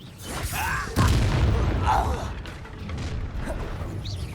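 A Confringo blasting spell fires in a Hogwarts video game on PlayStation 4, a booming burst near the start followed by rumbling, whooshing magical effects and mechanical creaks that continue steadily throughout.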